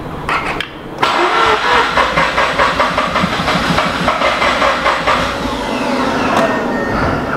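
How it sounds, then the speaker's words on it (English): A Mazda RX8 with a 13B rotary engine cranks and catches, then runs roughly with a loud, close, pulsing buzz. Its steady hiss holds throughout and eases slightly toward the end. "as soon as it started, the battery went flat, but it did start and run"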